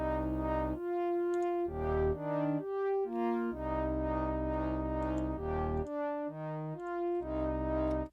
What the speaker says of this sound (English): it is the keys Wah-Wah LFO keys from also Synthopia analog lab bank